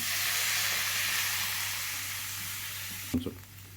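Ginger garlic paste sautéing in a pan gives a steady hiss of sizzling that fades gradually, then a few close clunks and bumps as tomato goes into the pan; no talking.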